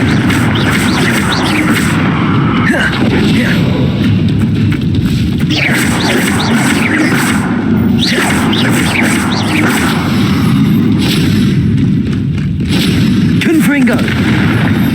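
Confringo blasting spells exploding in the Hogwarts Legacy video game, loud booming blasts over a dense, continuous backdrop of battle noise and effects, with a voice speaking now and then.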